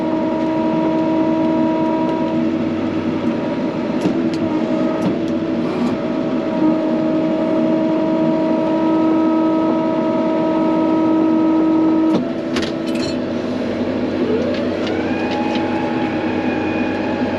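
A farm vehicle in four-wheel drive on a cattle-feeding run drones steadily with a sustained engine hum and whine, loud and close from inside, with a few rattles and a rising tone near the end.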